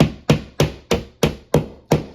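A little hammer pounds a nail into a no-drill TV mount on a wall, seven sharp, evenly spaced metallic knocks roughly every third of a second, loud and close with no voices.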